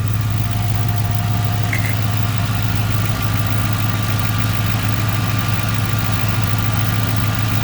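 A 2008 Ford Crown Victoria P71 Police Interceptor V8 idles steadily up close, a constant low rumble with even throbbing pulses and no revving, heard alone without talk.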